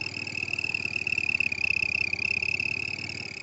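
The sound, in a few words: bicycle sound device imitating a car engine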